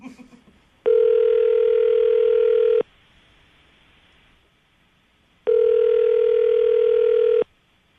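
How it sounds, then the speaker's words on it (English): A loud, steady telephone dial tone sounds twice in two-second bursts separated by a quiet gap, with faint sounds before the first. "I'm going to dial the phone number right now, see if we can get him on the phone"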